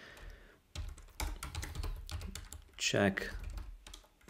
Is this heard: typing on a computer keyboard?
yes